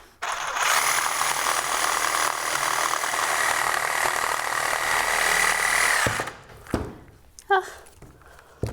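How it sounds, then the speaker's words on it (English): Reciprocating saw cutting a piece about 4 or 5 inches long, a loud continuous buzzing whine lasting around six seconds, then stopping and followed by a few clunks and handling knocks. "So anyway, reciprocating saw, you could use a hand saw for this."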